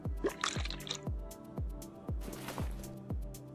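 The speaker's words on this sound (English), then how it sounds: "Where's the brake fluid reservoir? There it is. Let's drain that out as well." Brake fluid draining in Car Mechanic Simulator 2021, a regular series of plopping drips roughly every half second, clear and close, with a brief splashy flurry near the start.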